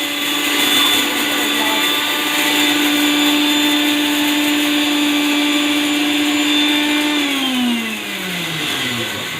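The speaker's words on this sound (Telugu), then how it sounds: "ఇప్పుడు గ్రైండ్ చేస్తాం" A Sujatha mixer grinder whirs steadily as it grinds fried lentils, a loud continuous motor whine that holds for about seven seconds and then drops in pitch as it winds down near the end.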